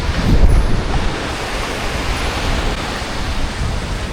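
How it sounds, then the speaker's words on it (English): Loud, broad roar of surf at a beach in Tasmania, mixed with buffeting wind on the microphone and a heavier gust near the start, continuous and close without speech. "Oh, look at that beautiful beach."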